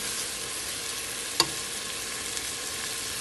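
Colored bell peppers sizzle in a hot frying pan while being stirred, a steady close hiss with one sharp clack of the utensil partway through.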